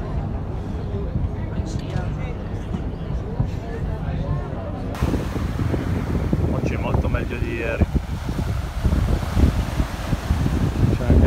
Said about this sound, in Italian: C'è anche vento da terra